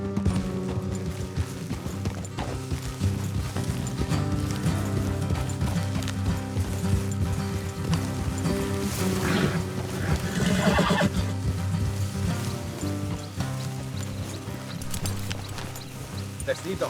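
Horses clip-clop along at a trot and neigh loudly partway through, with creaking tack and game ambience underneath, in the video game Red Dead Redemption 2.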